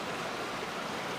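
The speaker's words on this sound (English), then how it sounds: "You can hear the creek." Mountain creek water running, a steady broadband rushing and splashing heard close and continuous over a short stretch, with no voices.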